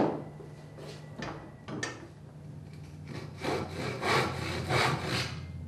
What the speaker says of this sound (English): I think I'll do this in the vise because I might start cutting the bench hook.